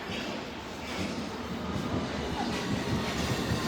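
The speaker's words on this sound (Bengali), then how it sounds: "একটু এই দেখেন ট্রেন আসতেছে" A train pulls into a London station with a steady, loud rumble of wheels and carriages that builds slightly as it nears, with no voices over it.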